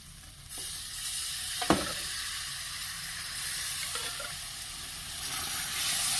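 Cooked rajma (kidney beans) hit a hot pan and sizzle steadily, a dense hiss with a brief sharp clatter of stirring near the start and soft scraping later; no one speaks.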